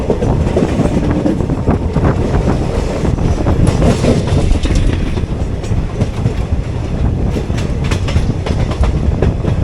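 The Mettupalayam Express rolls into Coimbatore North station, giving a loud close rumble of railcars with rhythmic clickety-clack over rail joints and a faint wheel squeal, continuous throughout.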